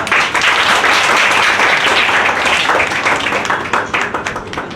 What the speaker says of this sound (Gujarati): 1 મિનિટ અને 34 સેકન્ડમાં જેઓએ પૂરું કર્યું છે, તાળીઓથી વધાવી લઈએ